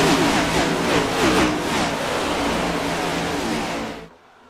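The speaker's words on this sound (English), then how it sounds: "Now it's going to take a minute for these cars to spool on up." NASCAR Cup cars accelerating at Talladega in iRacing, a loud sustained pack of engines revving and droning together close by, then cutting off abruptly near the end.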